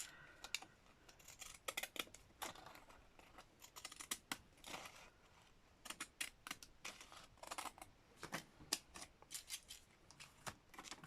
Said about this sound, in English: Scissors to the rescue.